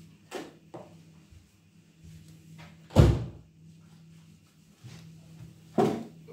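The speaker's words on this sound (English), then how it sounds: "Close the door." Indoor door or cupboard knocks and thumps, one louder slam near the middle and another firm close toward the end, with quieter bumps between; no talk.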